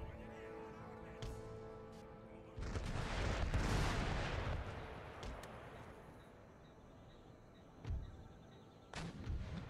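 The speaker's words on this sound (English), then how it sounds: "Artillery working on the enemy infantry coming in" Artillery fire in the PC strategy game Empire: Total War, with cannon shots and booming volleys rolling through a battle soundscape, a dense barrage building mid-way, then isolated shots near the end.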